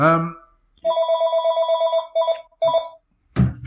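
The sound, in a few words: phone ringing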